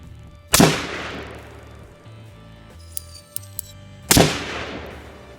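Two loud, close rifle shots ring out roughly three and a half seconds apart from a 1:7 twist barrel firing 75 grain bullets, each with a sharp crack and a decaying tail, with a few small mechanical clicks between them.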